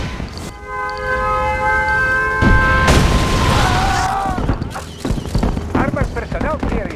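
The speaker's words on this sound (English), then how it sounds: "Warning, nuclear missile launched." In the Red Alert 2 Yuri's Revenge real-time strategy game, a nuclear missile launch builds into a sharp blast with a deep boom and crackling debris, mixed with other battle effects and an announcer voice.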